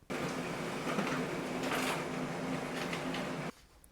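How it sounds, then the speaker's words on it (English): A Brother MFC-L2820DW laser printer printing a page, a steady whirring mechanical run of about three and a half seconds with some rattling, then stopping abruptly. "The print has been now sent to the Brother printer, and just in a few seconds the result will come out"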